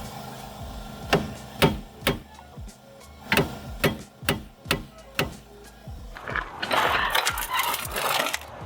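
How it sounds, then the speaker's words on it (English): A hammer drives a CV axle on a Chrysler 300 during an axle replacement, giving about a dozen sharp metallic strikes in an uneven rhythm, close and clear. A rougher burst of clattering follows near the end. "Okay, now let's hammer this out."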